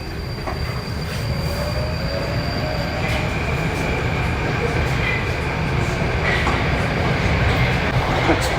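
A Moscow metro train runs underground with a constant low rumble and roar, thin wheel squeals rising over it, and faint voices now and then.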